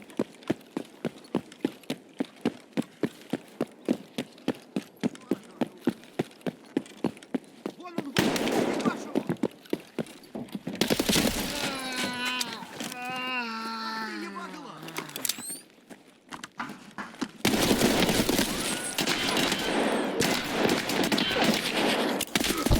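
Gunfire in Escape from Tarkov begins as a long run of evenly spaced single shots, then breaks into louder, denser bursts, with someone talking over parts of it.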